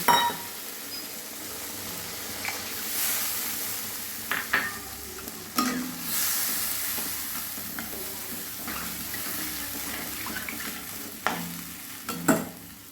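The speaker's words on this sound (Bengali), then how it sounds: "এবারে ভাজা আলুটা দিয়ে দিলাম ওই ঝোলের জন্য আমি জল দিয়ে দিলাম" Fried potatoes and water go into a simmering koi fish gravy, giving a steady low sizzle and bubbling with occasional stirring scrapes and clinks of a utensil against the pan.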